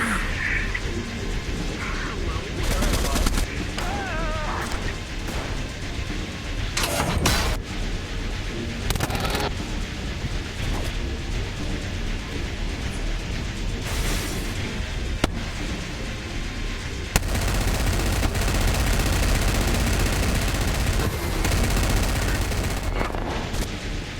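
Dense gunfire in a VRChat roleplay battle: loud, continuous bursts and single shots crackle on top of one another, with heavy booms mixed in, for the whole stretch.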